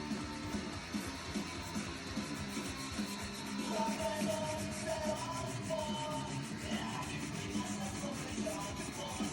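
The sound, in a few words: sanding guitar wood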